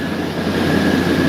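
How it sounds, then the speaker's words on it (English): A Raritan Line commuter train idles at the Newark station platform, giving off a steady, loud low rumble and hum with a faint high tone, and no voices. "the Raritan trains oftentimes sit here for a while"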